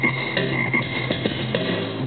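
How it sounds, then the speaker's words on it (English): A frog croaks in a steady run of rough, repeated calls lasting about two seconds, close and fairly loud, with no talking. "frog."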